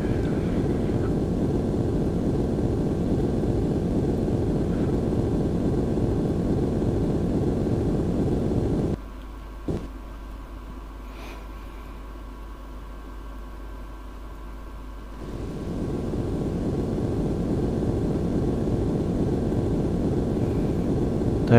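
A Eurofighter EF2000 jet cruising on autopilot in a flight combat video game gives off a steady, even engine roar and hiss that drops away to near quiet for several seconds before returning just as loud.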